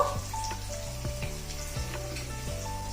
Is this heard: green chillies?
yes